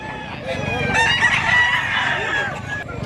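A provincial rooster lets out one full crow close by, a loud rising and falling call lasting most of three seconds.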